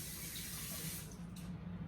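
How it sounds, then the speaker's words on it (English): Water pouring steadily into a bowl while cooking BBQ pork neck bones, a continuous close splashing rush that cuts off near the end, with no talk. "we're going to add about a 1/4 cup of, guess what? Water."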